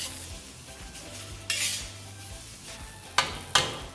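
Mexican fried rice gets a final mix in a pan, soft low sizzling under a few loud scraping bursts of a spatula, two sharp strokes close together near the end.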